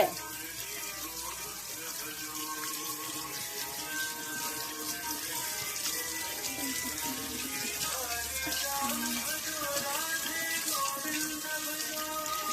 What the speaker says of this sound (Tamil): கை நல்லா கழுவிக்கணும்.